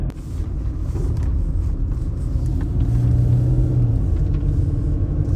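A car rolls along a blocked-off city street after a tornado, heard from inside as a steady low engine and road rumble with a slight rise in pitch midway, no talking.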